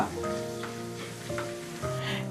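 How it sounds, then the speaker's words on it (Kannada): Chana dal, urad dal and mustard seeds fry in hot oil for peanut rice, a steady close sizzle with faint crackles and a low hum underneath, no talking. "ಕಡಲೆಬೇಳೆ, ಉದ್ದಿನಬೇಳೆ, ಸಾಸಿವೆ, ಈಗ ಇದನ್ನೆಲ್ಲವೂ ಸಹ ಸ್ವಲ್ಪ ಕಂದು ಬಣ್ಣ ಬರೋವರೆಗೂ ನಾವು ಇದನ್ನು ಫ್ರೈ ಮಾಡುವ"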